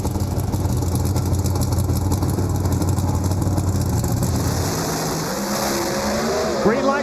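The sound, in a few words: Camaro drag race run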